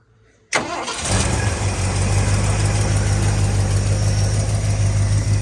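An old rescued car's engine fires up suddenly after a quiet moment, running off the carburettor bowls only, then settles into a loud, steady idle that continues to the end with no talking.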